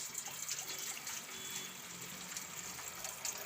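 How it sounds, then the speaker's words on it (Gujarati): Water poured into a kadai on the stove for making rose petal sharbat, a steady splashing, trickling flow, fairly quiet and close, with no talk over it. "એમાં આપણે આ પાણી નાખી દેવું"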